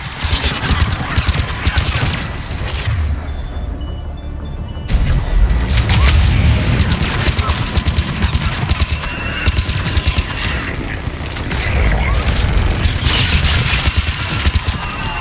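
A gunship fires on enemies in the video game Mass Effect 3, missile blasts giving way to dense, rapid gunfire that rattles loudly and continuously through the scene.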